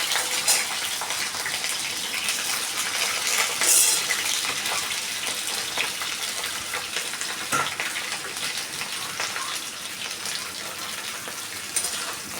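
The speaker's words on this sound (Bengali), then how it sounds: "এরকম সময় আমি কেটে রাখা ভেন্ডিগুলো দিয়ে দিচ্ছি।" Sliced okra hits hot oil tempered with black cumin and fries in a pan, a dense, continuous close-up sizzle with occasional spattering pops and no talking.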